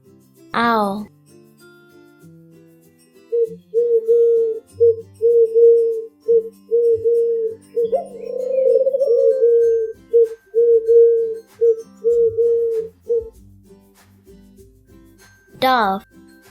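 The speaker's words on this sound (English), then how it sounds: "Dove," A dove cooing in a steady run of soft, low, even coos that carry on for about ten seconds, with a brief voice at the start and end.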